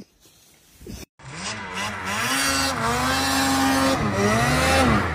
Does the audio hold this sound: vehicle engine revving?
yes